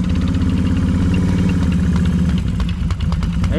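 A two-stroke ATV idles in snow, its engine putting out a steady, loud, close, uneven burble that runs throughout with no speech.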